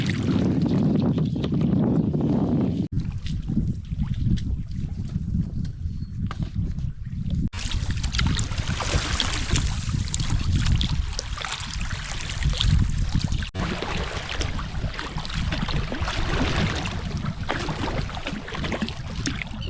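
Kayak paddled back across open water on an overnight trip in Newfoundland, with steady water swishing and dribbling under gusty wind noise on the microphone, no one talking.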